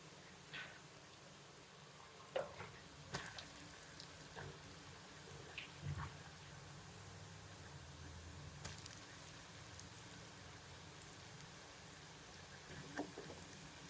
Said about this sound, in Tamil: நம்ம பிழிஞ்ச முறுக்கை சூடான எண்ணெயில் போட்டு பொரிச்சு எடுத்துருவோம்.